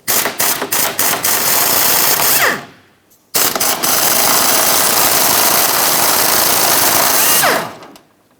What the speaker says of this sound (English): 13mm socket, remove both of those.